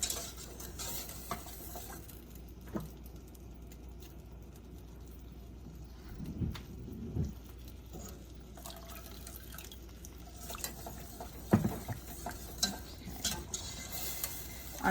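A thickening mixture stirred constantly in a pot, with faint scraping, light liquid and dripping sounds and occasional soft clinks, quiet throughout with no speech.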